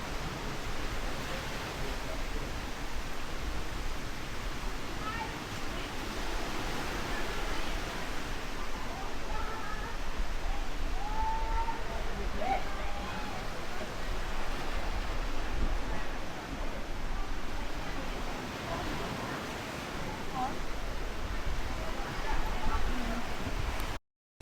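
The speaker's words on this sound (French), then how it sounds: "il y a la cascade qui descend juste au niveau de la mer" A waterfall in Jamaica pours down to sea level, a continuous broadband rushing wash that stays steady and fairly loud for the whole stretch, with no speech over it.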